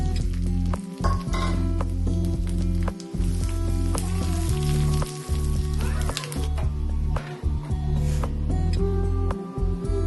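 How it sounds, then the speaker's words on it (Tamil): Almonds and cashews roasting in ghee for milkmaid payasam, a loud continuous close sizzle with a strong low hum running under it and occasional stirring clinks, with no speech. "பாதாம் முந்திரிய எண்ணெயில நெய்யில வறுக்குவேன்"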